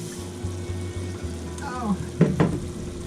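Hamburger meat fries in a pan with chopped onion added, giving a close, steady sizzle with a couple of brief clatters and a faint voice underneath.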